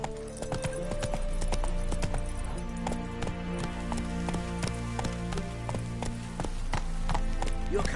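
Roach, a horse in the video game Witcher 3, gallops with quick, rhythmic clip-clop hoofbeats that run steadily throughout, layered over game music and ambience.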